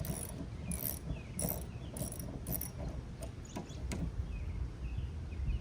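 Close ratcheting clicks and short bursts as a wrench tightens the rear wiper arm bolt on a Chevy Equinox, irregular and fairly faint over a quiet background.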